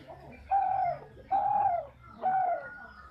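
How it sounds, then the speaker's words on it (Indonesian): A local Javanese spotted dove coos three times in slow, evenly spaced phrases, each a soft, rounded call with quiet pauses between. "Kalau soal derguku lokal ini, Pak, itu suaranya gimana?"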